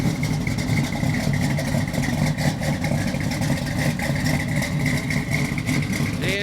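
A 1982 Chevy Silverado V8 fitted with a 510 cam idles steadily outdoors in cold weather, a loud, continuous lumpy rumble with a slight choppy lope throughout and no talk.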